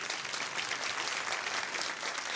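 A live audience at a Turkish folk music stage show claps in a steady, dense round of applause that sounds moderately distant and even throughout, with no talking over it.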